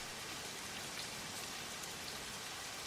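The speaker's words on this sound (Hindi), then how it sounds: "बहुत बारिश भी हो रही है" Heavy rain pours steadily outdoors, a dense continuous hiss of falling drops with no pauses, fairly faint and even throughout.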